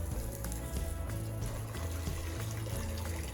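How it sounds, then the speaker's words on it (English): Water hose spraying over garlic plants inside a greenhouse on a farm in winter, a steady close rushing, pattering flow of water running continuously. "So Steven has a lot of patience with that water hose"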